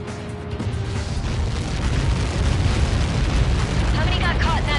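A huge missile impact explosion in the Ace Combat 7 flight game, a deep sustained roaring rumble that swells and holds loud over the full stretch, with engine drone and faint radio chatter layered beneath.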